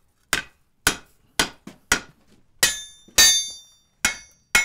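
Heavy hammer blows ring on an anvil while an iron strap hinge is forged, about nine sharp metallic strikes at a steady, slightly uneven pace, each ringing briefly, loud and close with no talk.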